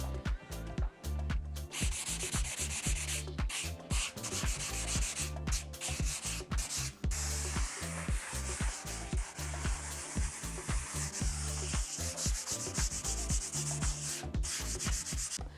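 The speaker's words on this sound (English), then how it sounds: "We have a very fine sanding pad here, and we're going to make this stencil even more vintage." Steady scratchy rubbing of a fine sanding pad on a painted stencil, with short rhythmic strokes continuing throughout, close and fairly loud.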